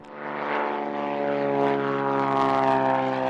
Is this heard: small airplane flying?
yes